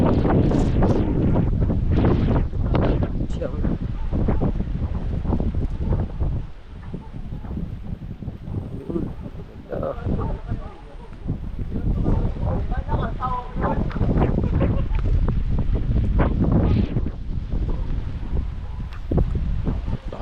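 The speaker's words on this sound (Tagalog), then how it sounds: "lakas ng hangin, lakas ng ulan." Heavy wind buffets the microphone in a steady roar at a mountain viewdeck on Mt. Banahaw, with rain noise mixed in and a voice talking intermittently over it.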